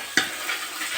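Potatoes going into a frying spiced gravy of dried fish, a short steady sizzle broken by a couple of soft spoon scrapes, quiet and with no voices.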